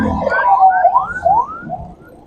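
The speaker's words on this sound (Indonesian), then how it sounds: "Tuh, ada ambulan itu ya." Ambulance siren on a road near a hospital entrance, a wailing tone that rises and falls over a couple of seconds, fairly loud against traffic rumble.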